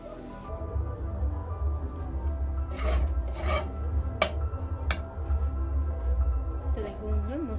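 A spoon stirs a chana dal filling with ground roasted spices in a pan over a low flame, giving soft scraping and rasping strokes with a few sharp clinks, while a person talks over it.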